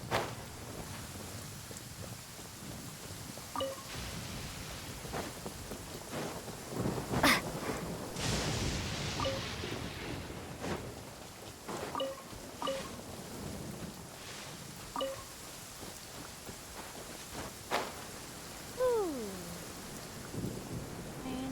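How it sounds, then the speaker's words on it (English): Rain and rumbling thunder in a Genshin Impact game scene: a steady wash of rainfall with swelling thunder rolls, a louder crack midway, and faint chimes and game effects scattered through. "Rain, go away. Come again some other day."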